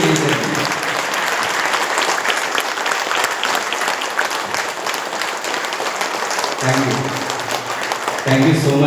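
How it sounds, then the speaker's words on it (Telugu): An audience claps continuously at a Guru Purnima gathering at a pyramid meditation centre, steady dense applause filling the room with a voice briefly heard near the end. "చప్పట్లతో తెలియజేశారు"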